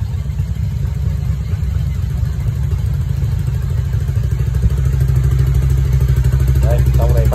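An old motorcycle engine idles steadily after starting, a loud, continuous low chugging with some mechanical clatter, close to the microphone.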